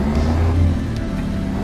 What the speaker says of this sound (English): I'm short-shifting this V8 to get myself back up to highway speeds